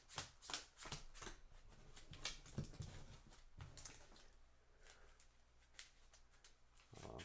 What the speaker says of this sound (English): Shuffle the deck.